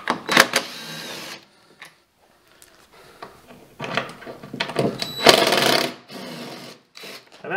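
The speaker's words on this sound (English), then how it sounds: "So T30, I use my little quarter inch impact." A quarter-inch impact driver backs out T30 fasteners on a Ski-Doo Gen 4 850 snowmobile chain case: several short loud hammering bursts separated by pauses, with softer handling clatter in between.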